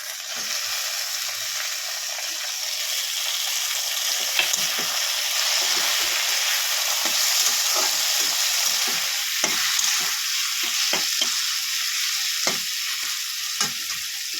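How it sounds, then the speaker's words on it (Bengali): Boiled garlic and flat beans fry in a pan for a Bengali flat-bean dish, giving a steady broadband sizzle with scattered crackles and pops, close and fairly loud, with no talking. "সেদ্ধ রসুনগুলো দিয়ে দেবো দিয়ে একটু ভেজে নেবো সিম দিয়ে দেব"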